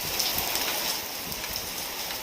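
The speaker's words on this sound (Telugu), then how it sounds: "హైదరాబాద్తో పాటు తెలంగాణ వ్యాప్తంగా పలుచోట్ల వర్షం పడుతోంది." Rain falls in Hyderabad, a steady, moderately loud wash of drops pattering on surfaces, continuous and unbroken with no voices.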